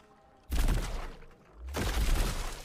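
Two loud bursts of gunfire ring out in the sci-fi shooter video game High on Life, each a dense crackling blast lasting about a second, separated by a brief quieter gap.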